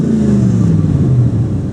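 A 1997 Factory Five MkI Cobra roadster replica with a 5-liter engine, custom headers and catalytic converters, revs loudly and steadily at close range, its deep engine note rising and holding briefly with no talk over it.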